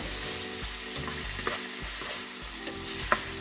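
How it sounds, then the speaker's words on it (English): Green beans sautéing in a pan for a chicken stir fry, a continuous close sizzle with a few light stirring clicks and scrapes scattered through, no voices. "So it has been sauteing for about 3 minutes."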